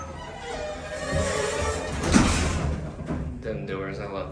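Lodestar hydraulic elevator doors sliding shut with a rising rumble and a solid thud at the close, followed by a softer settling clatter, while people talk nearby.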